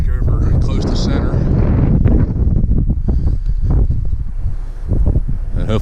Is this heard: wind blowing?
yes